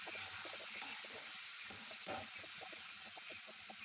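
Turmeric, chili powder, garam masala and salt fry with tomato in a pan, giving a faint, steady sizzle broken by light rhythmic scraping and stirring taps from a spoon, with no voices.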